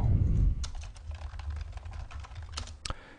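Typing on a computer keyboard clatters up close, with irregular bursts of key clicks and a couple of sharper, louder strikes near the end over a low background rumble.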